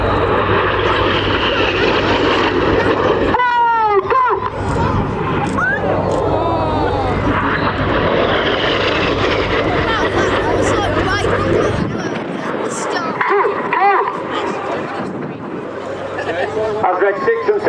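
Red Arrows synchro pair jets roar past at an airshow, a loud engine rumble swelling and fading over crowd babble, with a commentator talking throughout.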